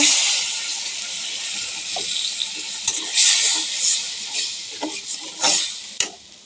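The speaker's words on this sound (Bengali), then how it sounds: "এখন আমি একটু পানি দেব।" Water splashed into a hot frying pan of browned onion, ginger and garlic after fish has been fried, giving a loud, steady hiss that fills the whole stretch, broken by occasional louder bursts and stirring knocks.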